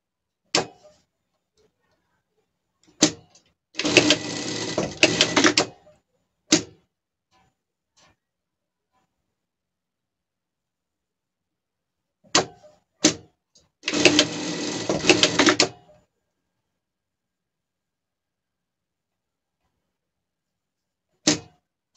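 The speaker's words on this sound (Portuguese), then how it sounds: "Então, passamos uma costura aqui" A sewing machine runs in two short bursts of a few seconds each, stitching a seam on a pet monkey mannequin, with sharp isolated clicks and taps between the runs and near-silence otherwise.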